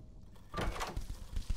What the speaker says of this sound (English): I don't like that knocking noise.